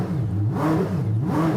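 Koenigsegg Jesko engine blipped in quick revs, loud and close, each rise and fall of the throttle repeating in a smooth wave with no voices.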